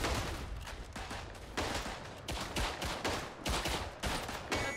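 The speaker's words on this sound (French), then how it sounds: "un petit tir d'artillerie ici" Artillery fire in the World War I shooter Verdun, heavy booming blasts and rattling gunfire in loud repeated bursts, several explosions landing close in quick succession.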